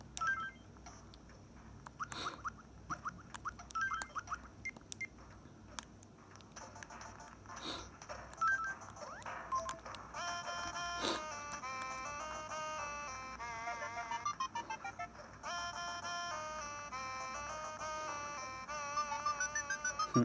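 Instrumental aircheck version of a song from the Animal Crossing video game, a bright, chiming synth melody over a steady backing that plays continuously at moderate volume with no talking.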